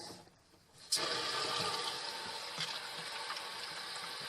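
Water rushing into a home five-stage water filter system as the valve is reopened, starting abruptly after a brief near-silence and then continuing as a steady, moderately faint hiss of filling and flowing water.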